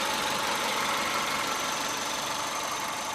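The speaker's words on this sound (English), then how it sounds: "There's really nothing like a boxer when it's idling." The boxer engine of a 1999 Subaru Legacy Wagon idles with an even, steady rumble at close range, with no voices over it.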